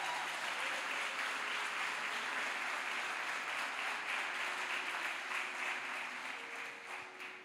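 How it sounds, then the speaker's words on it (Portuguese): A church congregation applauds its visitors with a continuous, fairly distant wash of clapping that holds steady and tapers slightly at the close. "Uma salva de palmas para os nossos visitantes."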